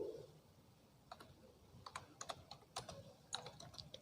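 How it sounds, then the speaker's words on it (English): Keys on a computer keyboard are typed in quiet, irregular clicks, sparse at first and then faster and denser, over a faint room hiss. "I am typing with the help of keyboard"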